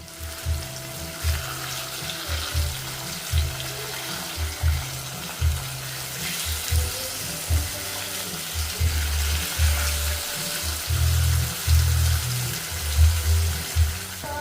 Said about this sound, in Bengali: আমি কি বলে সেটাকে কোরিয়ান ফ্রাইড রাইস রান্না করছি